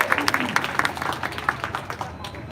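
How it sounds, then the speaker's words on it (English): An audience at a culinary demo at the Disney Food & Wine Festival 2023 claps for Chef Luis, a quick burst of scattered hand claps mixed with voices. "Everyone give a round of applause for Chef Luis."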